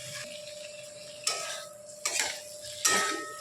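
Spices being stirred into oil in a pan for a thin rui-style fish curry with vegetables, heard as three short scraping, clinking strokes of a spoon against the pan over a steady low hum.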